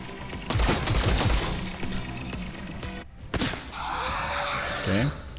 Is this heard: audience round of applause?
no